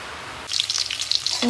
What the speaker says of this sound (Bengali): বাগার দিয়ে নিচ্ছি দিয়ে দিচ্ছি ভিতরে রসুন কুচি